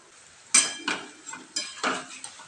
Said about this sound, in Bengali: আমি এখন পকোড়াটা একটু উল্টিয়ে দেব, দেখি উল্টো পিঠেটা কেমন ভাজা হয়েছে